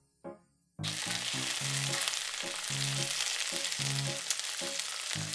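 Seasoned fish, rubbed with salt, chili powder, turmeric and pepper, hits a hot frying pan with a sudden loud sizzle that continues steadily as a close crackling hiss, with soft background music under it.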